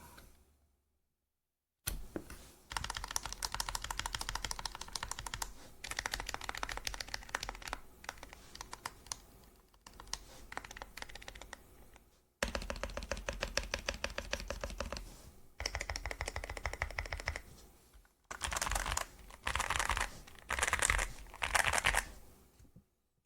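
Fast typing on a YUNZII AL66 wireless 65% mechanical keyboard with lubed stabilizers, close-up dense clacking in several bursts separated by short pauses, with no voices.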